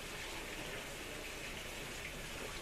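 Steady rain falls as a continuous, even hiss of broadband noise, fairly faint and unbroken throughout, with no distinct individual drops or voices.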